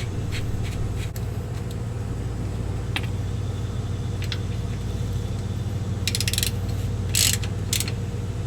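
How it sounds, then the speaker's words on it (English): A hand ratchet clicking as it tightens the rear differential drain bolt on a 2008 GMC Sierra, a few short sharp ticks and a quick run of clicks near the end over a steady low hum. "So we'll put the drain bolt in and tighten it up."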